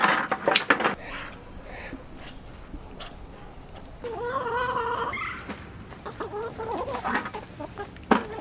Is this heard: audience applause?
no